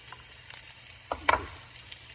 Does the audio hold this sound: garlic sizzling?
yes